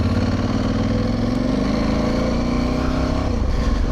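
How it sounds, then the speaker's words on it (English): An Aprilia Tuareg Rally two-cylinder motorcycle engine running through its original exhaust, a loud, close, steady rumbling idle with a slight rise in revs partway through. "First thing I notice is the sound. It is quite loud for original exhaust."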